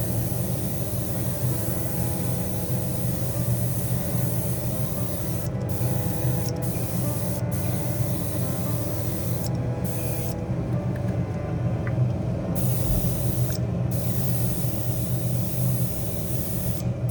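An airbrush sprays two-component clear coat with hardener and thinner onto a wide body kit for a BMW M4 G82, a loud continuous hiss at close range with a few brief pauses.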